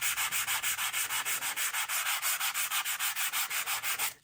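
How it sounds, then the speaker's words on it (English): Sandpaper rubs rhythmically against card in quick, even back-and-forth strokes, a steady scratchy pulse with no talking. "gently taking off on the raised bits the colour with your sanding paper"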